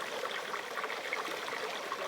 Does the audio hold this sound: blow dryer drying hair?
no